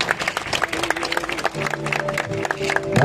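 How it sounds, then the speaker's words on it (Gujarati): Applause and crowd noise from an audience at a parade ceremony with tribal folk dance and traditional instruments, a steady mid-level clatter of clapping for about three seconds, with sustained tones from the music underneath. "આપણે સૌ તાળીઓથી વધાવીએ"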